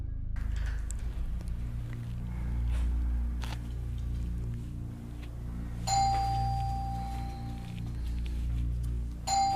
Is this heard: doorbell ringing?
yes